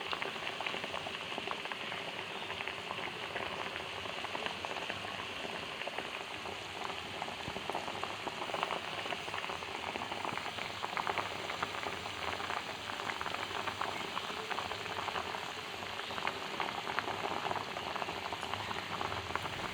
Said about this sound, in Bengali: জলটা ফুটছে